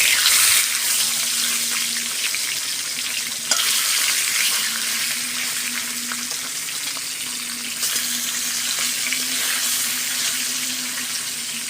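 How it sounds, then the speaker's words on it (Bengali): Mrigal carp fish frying in hot oil, a loud, continuous close-up sizzle and crackle with a faint steady hum beneath, unbroken for the whole stretch. "এবার আমি মাছগুলো ভেজে নেব।"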